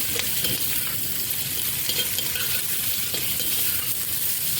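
Onion fries in a pot, a steady close sizzle with light scraping from stirring, running unbroken throughout.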